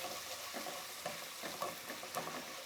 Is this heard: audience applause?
no